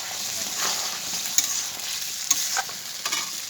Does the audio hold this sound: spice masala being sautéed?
yes